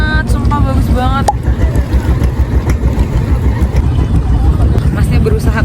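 A boat engine rumbles close by amid wind and water noise as the boat is maneuvered to dock in the Thousand Islands near Pulau Harapan, with people talking over it and a few knocks as the boat shifts.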